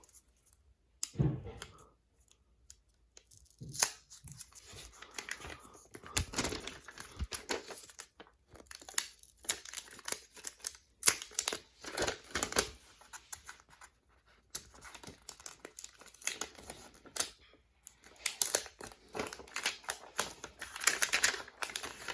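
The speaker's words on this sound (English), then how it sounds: "We'll just unwrap the phone now." Paper wrapping is pulled off a Nothing Phone 2a, giving irregular crinkles, tears and rustles in bursts spread across about twenty seconds, close and fairly quiet.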